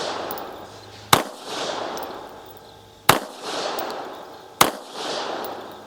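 Three sharp, loud pistol shots from a Bulgarian Makarov crack out at spaced intervals of about two seconds. Each report is followed by a fading echo, and no one speaks.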